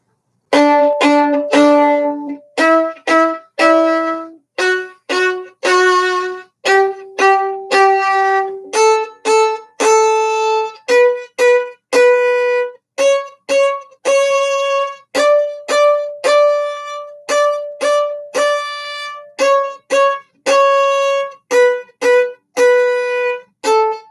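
Suzuki Book 1 Allegretto played as clear, separated staccato notes with accents and small swells in loudness, a steady melodic line of detached notes on a string instrument, solo and without voices.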